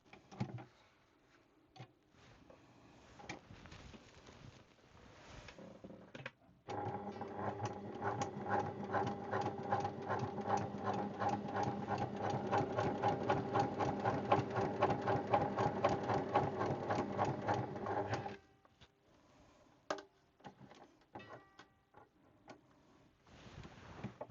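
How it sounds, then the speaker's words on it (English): A Baby Lock Hagane sewing machine stitches a single layer of vinyl, running in a fast, steady mechanical rhythm for about twelve seconds after brief handling noises, then stopping; recorded close and fairly quiet, no talking. "So you just saw me sew with a single layer of this vinyl."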